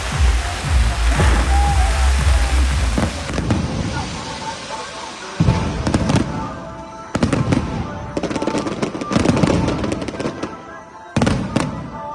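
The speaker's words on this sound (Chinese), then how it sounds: "由市长黄伟哲、圣母庙主委王晶莹共同启动，精彩国美的烟火将活动炸入另外一部高潮。" Fireworks burst at a Tainan temple festival's opening cannon ceremony, a loud, continuous barrage of crackling explosions that later breaks into separate booming volleys with brief gaps between them.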